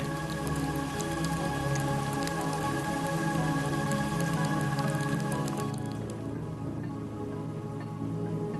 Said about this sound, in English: rain churns the volcanic mud